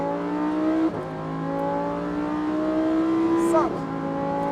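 Lamborghini Huracán STO with 640 hp accelerating on the Nogaro circuit, its engine note climbing steadily through the gears with sharp pitch drops at each upshift, loud and close, with faint talk over it.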